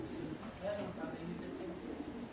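A racing pigeon hen coos softly in a loft in Baclaran, Parañaque, giving low, murmuring calls. Quiet voices and loft ambience sit in the background.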